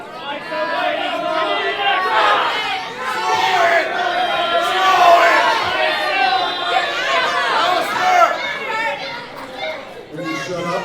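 A wrestling crowd at an indoor show jeers and chatters in a dense, loud, steady babble of many overlapping voices.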